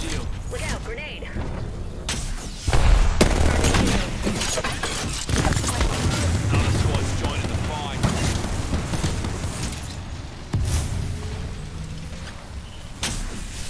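Gunfire in the Apex Legends battle royale game, dense busy bursts of shots and impacts with mechanical clatter and booms, loud and continuous, mixed with game sound effects and voice chatter.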